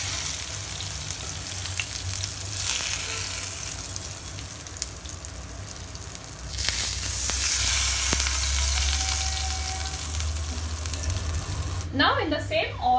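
Fish frying in hot oil, a steady loud sizzle and crackle that swells louder midway and keeps going, with a brief clatter near the end.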